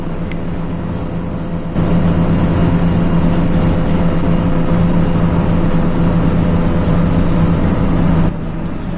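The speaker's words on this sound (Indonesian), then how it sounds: "suara renungan mesin bis ini kencang banget ya menurut saya" Loud, steady roar of a PATAS intercity bus engine on an East Java route, heard from a seat in the second row, with a continuous low drone and hum and no talk.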